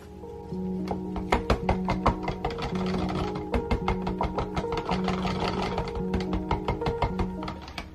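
A stick blender mixes cold process spearmint eucalyptus soap batter and colorant in a container, its motor whirring in bursts with repeated sharp taps and knocks against the container sides, close and fairly loud.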